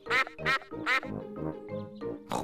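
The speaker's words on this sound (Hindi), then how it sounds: "देखो, वहाँ तालाब में बत्तख है।" A cartoon duck on a pond gives a series of loud, nasal quacks, about six in quick succession, each one clear and close.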